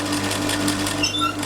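A sewing machine runs steadily, stitching down flat chiffon fabric for a keyhole bubu kaftan dress, its continuous motor hum close and even for the whole stretch with no talking.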